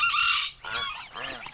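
Chickens in a backyard flock, a loud squawking cry followed by several shorter clucking and crowing calls, close by and fairly strong, with a little background voice.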